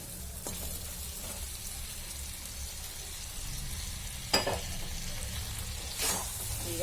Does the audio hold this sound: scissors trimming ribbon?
no